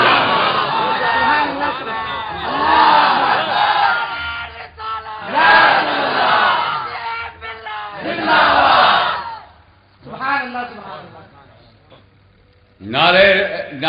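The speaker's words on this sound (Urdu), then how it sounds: "ہم نعرے تکبیر لگاتے ہیں کہ ہم ایک اللہ کو اپنا کبریا مانتے ہیں" A large crowd at a religious gathering chants the Nara-e-Takbeer slogan in loud unison bursts, a caller's line followed by massed shouted responses that repeat in waves with brief pauses between them.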